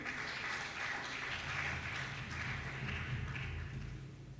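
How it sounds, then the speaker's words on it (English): An audience at a press week event in Akwa Ibom applauds, a fairly faint, continuous rustle of clapping with a low hum underneath throughout. "Please clap hand for him again."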